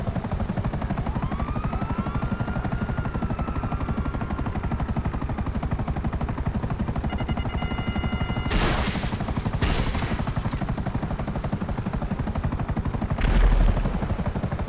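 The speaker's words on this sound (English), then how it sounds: "there's two helicopters on me" Helicopter rotor thudding steadily in GTA V Online, close and continuous throughout, with bursts of gunfire cutting in partway through and again near the end.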